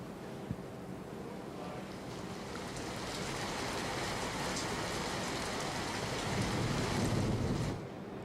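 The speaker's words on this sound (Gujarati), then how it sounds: "નવસારી શહેરમાં ધોધમાર વરસાદ ખાબક્યો" Heavy monsoon rain pours steadily over Navsari city in Gujarat, a dense, continuous roaring wash that swells louder near the end, with no voices.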